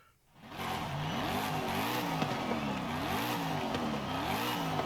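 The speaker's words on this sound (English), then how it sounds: "exhaust throttle" A 2024 Ford Mustang in Forza Horizon 5 revving on throttle: the exhaust note rises and falls in repeated sweeps, loud and close, with a gritty, rumbling tone throughout.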